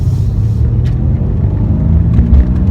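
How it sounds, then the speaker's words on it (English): A Mercedes C63 AMG engine rumbles and revs steadily up close, a deep throaty exhaust drone with no talking. "That exhaust note though is intoxicating on this car"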